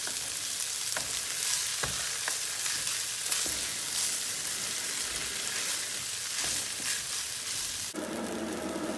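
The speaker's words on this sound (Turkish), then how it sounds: "Pirinçle beraber tekrar yeşil soğanlarımızı kavurmaya devam ediyoruz." Steady sizzling of rice and green onions frying in a hot pan, with occasional scrape and clack of a spoon stirring.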